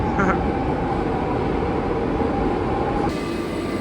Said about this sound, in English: Look, my especial train is arriving.